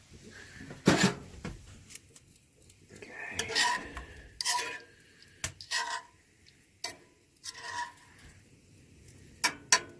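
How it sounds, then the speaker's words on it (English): Metal pan set down and shifted on a camp stove at a snowy winter lean-to, heating ravioli: a few sharp clanks and scrapes separated by quiet gaps, close and fairly soft. "I'm gonna throw this pan back in the oven here, or back in the stove, and let it get hot"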